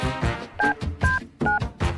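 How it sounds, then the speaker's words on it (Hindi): Touch-tone telephone keypad dialing, with several short clear beeps in an uneven sequence, each tone followed by a gap, loud and close with no talking. "मैं अपने हबी को कॉल करती हूँ।"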